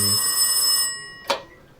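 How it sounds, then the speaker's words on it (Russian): A telephone in the video game This Is the Police rings loud and close with a steady tone that cuts off, followed by a single brief click. "Бойд вот теще звонит."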